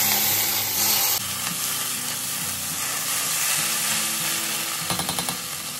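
Masala paste and curry leaves sizzle steadily in hot oil in a pan for a Maharashtrian drumstick curry, a loud continuous frying hiss with brief stirring scrapes near the end.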